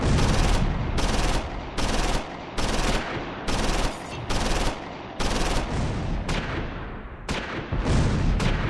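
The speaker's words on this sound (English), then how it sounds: "Abernathy's mortar team now opens a fire mission on the 2nd Kommandowagen." Mortar and small-arms fire in the World War II strategy game Close Combat 4, Battle of the Bulge at Monschau: a steady run of loud, closely spaced reports and blasts with brief gaps, no speech.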